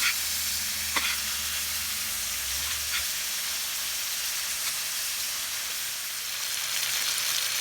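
Steak seasoned with kabab masala frying in a pan, a steady, loud, close sizzle and hiss that carries on without a break and without talk.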